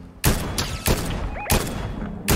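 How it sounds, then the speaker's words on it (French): Bursts of gunfire from a Fortnite match, four loud sharp volleys spaced roughly evenly, with brief game effects between them and no talking. "Même là, ça tire aussi."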